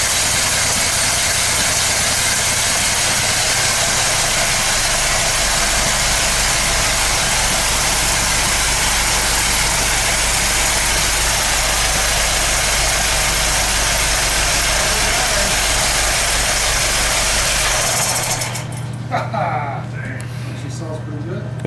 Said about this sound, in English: She sounds pretty good. It's running.